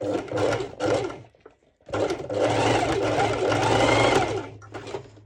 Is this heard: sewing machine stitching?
yes